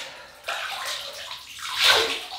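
Hot water runs from a tap to wet the face before a shave with a 1930s GEM Micromatic Gold Bullet razor. It sounds like a close, splashing hiss of water that starts suddenly and swells near the end.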